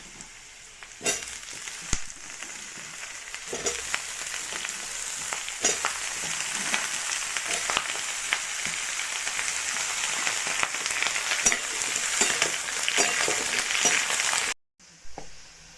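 Vegetables and reddened potatoes fry together in oil for a mixed vegetable curry, giving a steady, crackling sizzle like rain on a surface, punctuated by occasional stirring knocks, before cutting off abruptly near the end.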